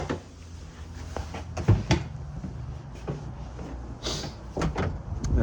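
Back door of a house opening and closing, a few wooden clunks and latch knocks spread across the stretch over a low background rumble, near and moderately loud with no talk.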